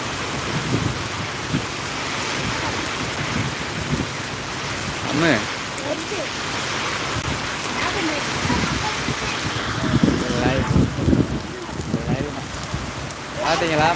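Heavy rain pours in a Tamil village as a steady, close roar, with low rumbles of thunder rolling underneath and a voice talking faintly now and then.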